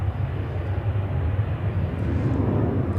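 A KLM airliner departs Zurich Airport, its engines a steady broadband roar with a deep low rumble, loud and continuous throughout with no talk.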